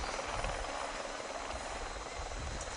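A helicopter filming the Tour de France in Lourdes thrums steadily overhead in a constant, fairly distant broadband roar, with no other clear sounds above it.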